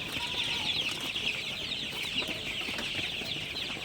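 Sonali super hybrid chickens in a shed at night, some perched on bamboo poles, give soft, continuous low clucking and chatter that stays steady throughout, with no talking.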